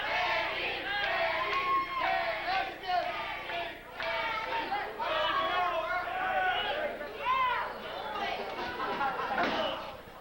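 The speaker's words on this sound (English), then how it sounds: "The crowd is chanting for Danny." Crowd in a Regional Championship Wrestling video game arena, a steady dense babble of many voices with rising shouts and chant-like swells, loud and continuous throughout.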